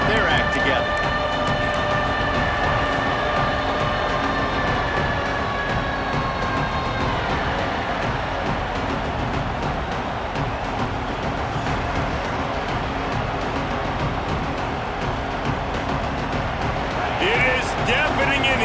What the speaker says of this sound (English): Deafening in here, soaked in noise as BYU tries to get a stop on 3rd down.